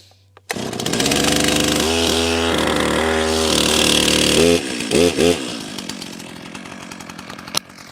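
A chainsaw that has sat unused for a long time roars to life and runs loudly, its engine revving up and down in several bursts before settling into a rough idle.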